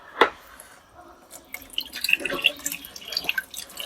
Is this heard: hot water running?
yes